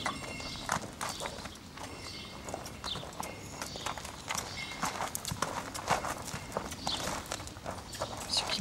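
A two-year-old uncastrated colt being worked produces close, irregular clip-clopping hoof beats on the ground, steady and continuous, with light shuffling and no talk over them.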